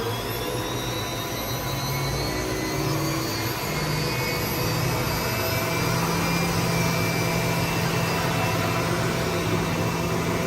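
A 2014 Hurco VM10i CNC machine's spindle runs at 10,000 RPM, giving a steady, loud high-pitched whine over a constant mechanical drone, with no voices.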